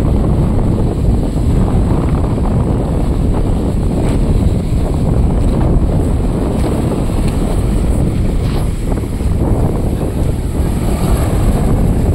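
Strong wind buffets the microphone at a beach in Lobo, Batangas with a constant heavy rumble, while surf churns underneath throughout, loud and unbroken.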